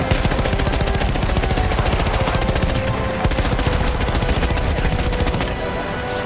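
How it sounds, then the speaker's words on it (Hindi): Heavy machine gun fire in the Battlefield 1 video game, a dense, continuous stream of loud rapid shots with no pause throughout. "हैवी मशीन गन इनके पास भी है"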